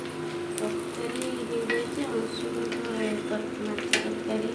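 Fish fries in a pan with a steady, dense sizzle and scattered sharp crackles, close by, with a faint voice murmuring underneath.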